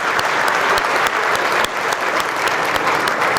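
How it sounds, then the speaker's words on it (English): An audience at a mayor's annual state of the city address breaks into sustained applause, loud and even throughout, with sharp individual claps standing out from the dense crowd clapping. "give yourselves a round of applause"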